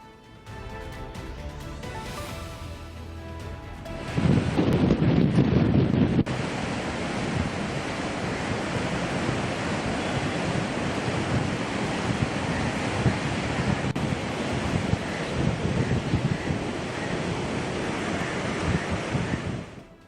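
Floodwater on the Godavari roars through the Dowleswaram Cotton Barrage as a loud, steady rushing surge. It swells in sharply after a quieter opening and then holds constant, with wind buffeting the microphone.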